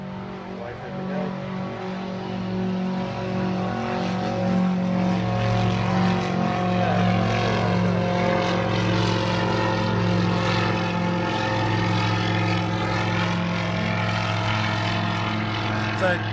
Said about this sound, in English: We've got an auto gyro just about to go